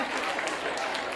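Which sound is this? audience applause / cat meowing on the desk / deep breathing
audience applause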